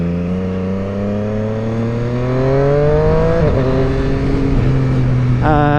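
A Triumph Street Triple 765R motorcycle with an SC Project exhaust and the baffle fitted revs steadily, a close, fairly muted engine drone that rises in pitch, dips briefly, then climbs again.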